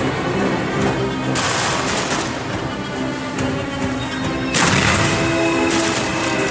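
Loud, sustained gunfire in the Call of Duty: Black Ops campaign, with dense automatic bursts blending into a continuous roar of shots and crashing impacts that surges again near the end.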